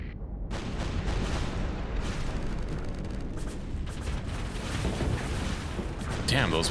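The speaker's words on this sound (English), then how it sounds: "Damn, those missiles are strong." Missiles explode in a Starsector space battle as a dense, continuous barrage of booming blasts and crackling bursts, loud and sustained, with a sharper burst near the end.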